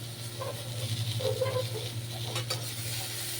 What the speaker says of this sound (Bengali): এদিকে বেগুনটা ভাজা হচ্ছে